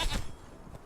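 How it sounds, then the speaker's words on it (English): A goat bleats in the video game Conan Exiles, two short close calls in quick succession at the start, then a fainter third bleat near the end, with no talking over it. "What are you doing, goat? Get out of here."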